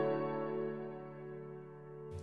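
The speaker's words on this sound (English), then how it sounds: "Kind of sounds like a double tracked piano." Two layered piano recordings, one hard left and one hard right, blend into a wide double-tracked sound, a single sustained chord slowly decaying, cut off by a brief noisy burst at the end.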